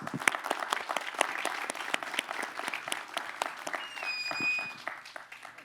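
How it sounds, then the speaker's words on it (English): Audience applause for the panelists at a security forum, a mix of distinct individual claps over a steady smattering, moderately close, with a brief tonal whistle partway through. "Let's give them a round of applause."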